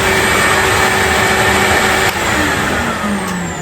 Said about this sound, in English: And it can actually do some vacuuming now without stinking everything down.